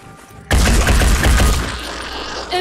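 A loud volley of gunfire from Phoenix Point erupts abruptly, a rapid burst of close shots and crackling reports that rings out then tails off, with a further shot near the end.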